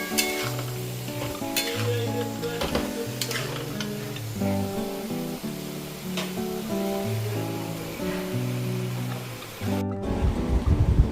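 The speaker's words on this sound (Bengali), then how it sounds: "মাশরুমটা দিয়ে কষিয়ে নেব।" Mushrooms sautéing in a hot pan, a continuous close sizzle with repeated stirring strokes and light clinks of a utensil, with faint music underneath and no talk.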